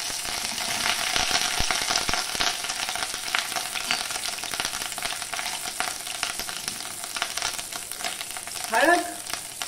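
Curry leaves, ginger and green chili sizzle in hot oil with a constant bright crackle and some stirring scrapes, close and continuous with no talking.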